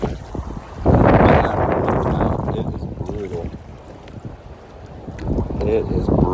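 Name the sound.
strong wind on a choppy lake while kayaking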